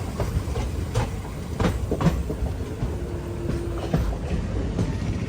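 The Madurai–Guruvayur Express pulling into Tenkasi station, with steady low rumble and rhythmic clickety-clack of wheels over rail joints, and a brief faint squeal near the middle.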